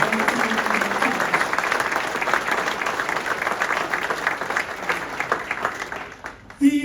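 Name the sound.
audience applause at induction ceremony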